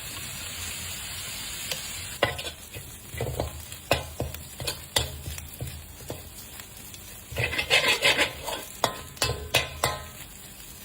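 Pork stir-fried with sugar in a pan: a hot sizzle that swells as the meat is tossed, broken by sharp scraping and clanking spatula strokes in irregular bursts, close and with no voices.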